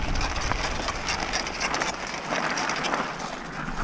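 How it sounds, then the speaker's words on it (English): Dusty mountain bike drivetrain after a long day of enduro riding, giving continuous gritty grinding and rattling noise with rapid crunchy clicks throughout, close and steady, no talking. "You can tell it's been a very dusty, long day when your bike sounds like this."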